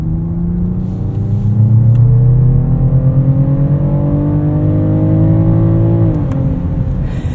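A 2024 BMW 750e xDrive accelerates hard in sport mode, its loud, steady drivetrain whir climbing smoothly in pitch before a brief dip and a continued pull near the end, with no talk over it.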